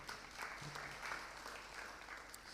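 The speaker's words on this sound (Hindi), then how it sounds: "ताली तो बजाओ जो चाहता है।" Audience clapping at a Jain religious discourse, a steady, moderate applause from a crowd sustained evenly throughout with no speech over it.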